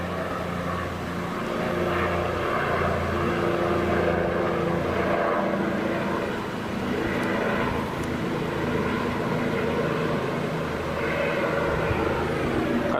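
A helicopter circles overhead in Florida, its steady, moderately loud engine and rotor drone continuing unbroken throughout, with no voices.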